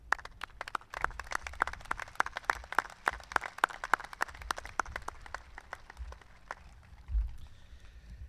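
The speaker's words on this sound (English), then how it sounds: "So this round of applause is for you and your leadership" Scattered, distinct handclaps from a sparse crowd at a high school graduation ceremony, individual claps crisp and fairly regular before thinning out toward the end.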